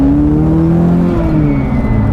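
Engine and exhaust of a supercharged Mk2 VW Golf G60 Limited drone loudly from close by, their pitch rising and then easing off as the car pulls along.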